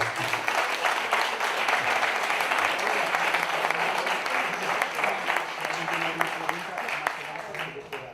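Sustained audience applause fills a lecture hall, a dense, even wash of clapping that stays strong for the whole stretch and thins slightly near the end, with some voices audible beneath it.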